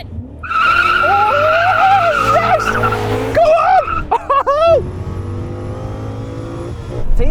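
BMW M5 cars launching side by side in a drag race, loud engine revs rising through the gears with tire squeal and skidding chirps up close, then the engine note dropping as the cars pull away.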